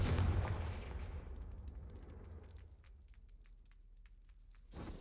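In the Hogwarts Legacy video game, a Confringo fire spell blasts with a heavy boom that fades into a crackling rumble, followed by scattered small clicks and a soft thump near the end.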